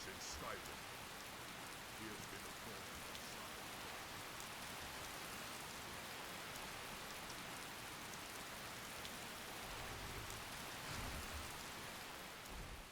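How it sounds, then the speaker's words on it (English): Steady rain falls in a video game world, a dense, even hiss of downpour that continues without a break, moderately loud and alone. "Of course, had to start raining, didn't it?"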